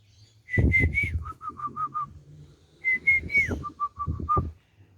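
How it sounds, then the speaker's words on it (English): A person whistles a series of clear, short, bird-like notes in two bursts, rising and falling phrases with brief pauses, close by and alone. "I wonder if I can whistle him in."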